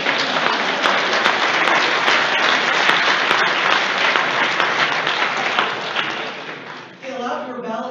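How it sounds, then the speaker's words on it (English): Sustained applause from a crowd at a national debate tournament opening reception, dense and loud, fading slightly near the end before a voice begins speaking. "In a minute, you're going to give Kate and Arnie a round of applause"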